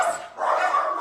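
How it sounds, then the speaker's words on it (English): Dogs indoors at home bark at an arriving visitor, with a quick pair of loud, close barks. "the dogs are going to start barking."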